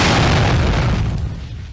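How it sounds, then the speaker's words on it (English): A loud explosion blows out the glass window of a bus: a heavy, full-bodied boom with a rushing roar that slowly fades over nearly two seconds. "The silence was interrupted by an explosion, shattering the glass window of the bus."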